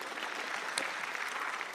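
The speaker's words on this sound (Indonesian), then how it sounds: "Tepuk tangan untuk pemerintah." Brief audience applause during an Indonesian stand-up comedy show, with many hands clapping in a steady, fairly even wash for under two seconds and no talk over it.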